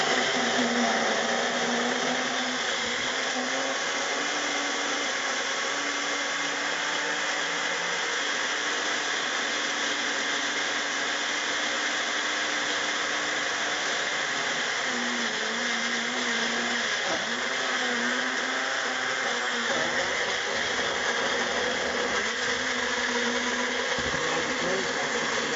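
A blender whirs continuously while mixing a thick weight-loss smoothie, a steady, loud motor drone with slight shifts in pitch as the contents churn.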